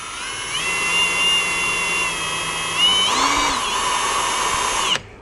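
A power drill spins a Puch moped cable, whining at a high steady pitch, shifting speed briefly midway before cutting off abruptly near the end.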